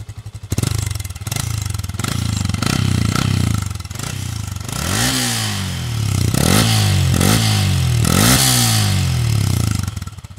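A Yamaha Sniper 150 v2 motorcycle with its stock exhaust pipe runs loud and close, the engine idling then revving in several sharp throttle blips that rise and fall.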